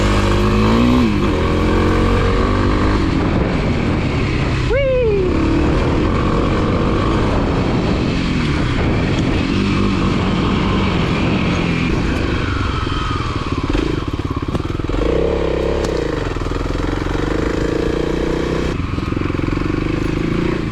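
A Kawasaki KLX300 dirt bike ridden on a trail while pulling wheelies, its single-cylinder engine roaring loudly and close throughout, with repeated revving and rises and falls in pitch as it accelerates and lets off.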